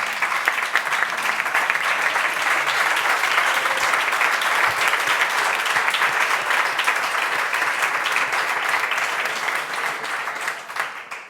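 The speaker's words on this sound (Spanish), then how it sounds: "Os pido un aplauso para ella, que participa." Sustained applause from an audience at a Podemos Citizen Council meeting in Spain, dense and steady for about ten seconds before easing slightly at the end.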